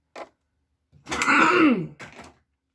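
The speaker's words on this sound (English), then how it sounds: "I had to clear my throat." A close throat clearing, a rough rasping sound, bracketed by brief small noises before and after.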